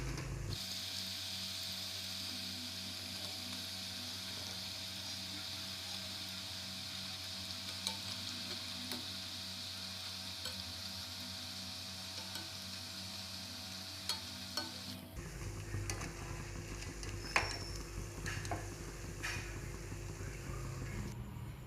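Diamond chips fry in hot oil until golden brown, giving a steady, continuous sizzle that holds for the full length, with occasional small pops and a change in background tone partway through.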